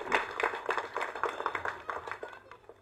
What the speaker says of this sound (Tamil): ஸோ அதுக்கு ஒரு மிகப்பெரிய கைத்தட்டல் இளையராஜா அவர்கள்.